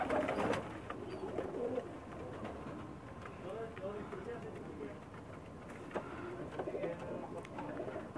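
Pakistani pigeons on a rooftop loft coo softly in the background, low and steady under someone speaking nearby.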